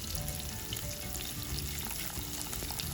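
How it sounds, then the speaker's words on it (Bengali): Onions with a spoonful of ginger paste fry and sizzle steadily in a pan for broken-rice cooking, with a continuous close crackle and faint stirring scrapes throughout, no talking. "দিয়ে একটু নেড়ে চেড়ে ভেজে নিচ্ছি।"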